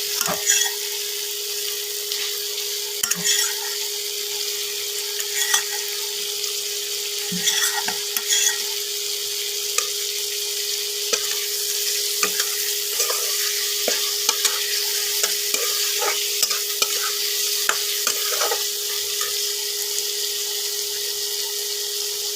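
Fried bhetki fish goes into a sizzling pan for a Bengali kalia, with a steady hissing fry and intermittent stirring scrapes and taps of a utensil, no talking.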